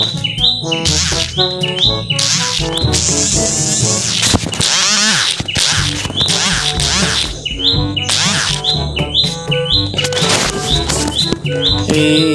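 Birds chirp and tweet in rapid repeated bursts inside a Roblox game, loud and close, with trilling calls layered over one another throughout.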